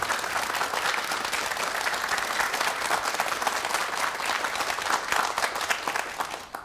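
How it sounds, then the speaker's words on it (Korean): A studio audience gives a full, loud round of applause for a professor's lecture, with dense, sustained clapping that tapers slightly at the very end. "교수님의 강의 박수를 청해 듣겠습니다"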